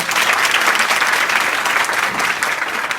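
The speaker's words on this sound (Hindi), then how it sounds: "वेरी गुड, ताली बजाओ जरा।" Schoolgirls at an inter college event in Azamgarh clap together, a dense, even burst of applause sustained at close range with no voices.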